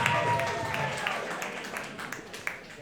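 An audience at a comedy roast battle show claps and cheers as a dense wash of applause that slowly thins out, with voices talking over it.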